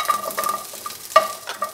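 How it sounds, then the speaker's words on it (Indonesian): Candlenuts, garlic and shallots dry-roast in a pan, giving soft scraping stirs and light clinks of a utensil against the metal in irregular bursts, close and fairly quiet. "Kita sangrai semuanya, kemiri, bawang putih,"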